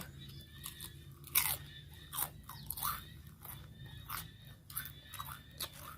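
Crunchy, crispy food chewed close up in a string of loud, sharp bites and crackles, the bites spaced irregularly with quieter chewing in between.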